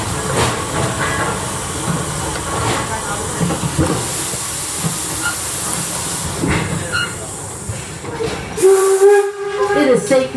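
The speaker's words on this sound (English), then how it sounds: "please wait until you hear that whistle before you stand." A Detroit & Lima Northern Railway No. 7 steam locomotive hisses and rumbles steadily, then a loud, low steam whistle blows near the end.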